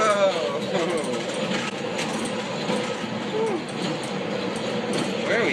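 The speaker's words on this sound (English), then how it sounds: "Turns out I'm on the wrong metro. I'm on the green line" A Chicago Green Line metro train in motion, a steady rumbling, rattling ride with squeals of wheels on track, heard from inside the car with a voice talking over it.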